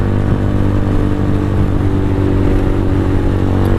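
A Venom X22R motorcycle ridden at night, with a loud, constant engine drone and rumble that stays at a steady pace throughout, with no voices.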